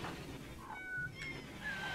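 A cat in the game Rimworld gives a few short, faint meows in quick succession over a quiet background hum, with no talking.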